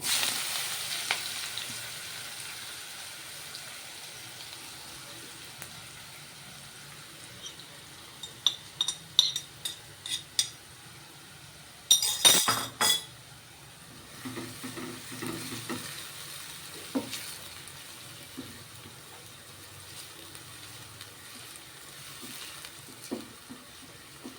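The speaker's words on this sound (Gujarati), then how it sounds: "ત્યારબાદ હિંગ એડ કરશું અને લીલી ડુંગળી" Asafoetida and green onions sizzle in a pan while a spinach and green garlic khichdi is cooked, a steady close frying hiss broken by bursts of stirring and sharp clinks of a spoon against the pan.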